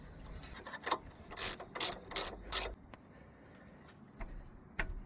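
A ratchet driving a replacement bolt into the front strut of a Ford Fiesta Mk7, making several loud, close bursts of quick clicking pawl strokes, then a few quieter scattered ticks and a final short burst.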